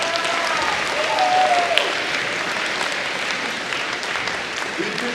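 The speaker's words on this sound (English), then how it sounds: "Once again, a round of applause." A crowd claps steadily, a dense wash of applause that stays fairly even throughout, with some voices faintly mixed in beneath.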